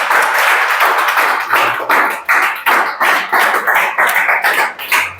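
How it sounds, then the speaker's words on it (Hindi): A group clapping in a classroom, a run of sharp, close hand claps in uneven bursts, loud and dry, with brief gaps between volleys and no talking over them. "ताली बजाओ जी संसद के लिए"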